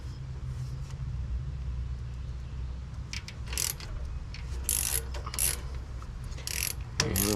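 A ratchet works loose the 7mm Allen head brake bolts on a Ford Expedition during a brake rotor change, giving close mechanical clicking and clunks over a low steady rumble, with a sharper knock near the end.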